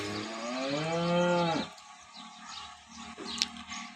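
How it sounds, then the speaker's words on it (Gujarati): A cow at a cattle sale in Rah village, Tharad taluka, Banaskantha, lets out one long, loud, close moo with a rising then falling pitch, followed by quieter farmyard background and a brief faint bird call. "આજે તમામ ગાયો આપણી પાસે હાજરમાં છે"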